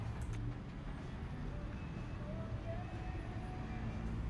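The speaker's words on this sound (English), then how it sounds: "Lots of morning traffic on the Strip right now." Steady morning traffic on the Las Vegas Strip, a continuous low rumble of passing cars and buses with a faint higher tone drifting through, moderately distant and unbroken throughout.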